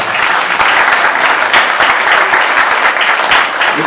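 An audience applauds a group of people named on stage at a French gathering. A loud, dense, continuous burst of many hands clapping fills the whole stretch with no talking over it.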